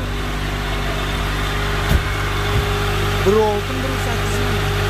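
Lada Priora engine idling at a steady low hum, with a steady background drone and brief clicks, while people talk over it.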